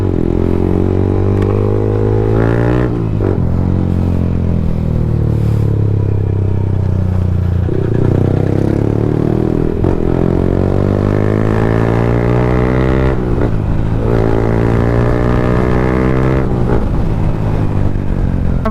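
A Yamaha MT-15 motorcycle ridden on a real-world mileage test, its engine close and loud, climbing through repeated gear pulls with rising revs, brief drops at each shift, and a steady throttling drone between.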